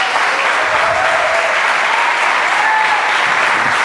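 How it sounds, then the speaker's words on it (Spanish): Loud, sustained congregational applause fills a church service, a dense, steady wash of clapping with no talk over it. "Dale un fuerte aplauso a Él también, ¿o no?"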